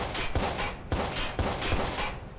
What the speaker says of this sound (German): Wir haben ja nicht umsonst ein Sturmgewehr.